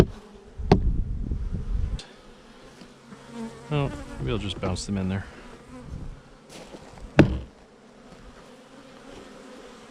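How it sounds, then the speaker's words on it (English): Honeybees buzzing close by while being put into a new hive, a persistent droning hum with thumps and knocks as frames and bees are handled, and a person talking briefly over them. "I'll try to get these bees to go in here where they're supposed to be."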